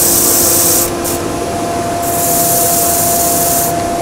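A bowl sander works a wooden bowl as a loud, steady rushing hiss with a constant motor hum underneath. The grinding brightens and dips briefly as the contact shifts, and no one speaks.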